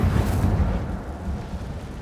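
Incendio fire spell cast in Hogwarts Legacy, heard as a dense, rumbling whoosh of flame that swells and holds steady, close and fairly loud, with no talking.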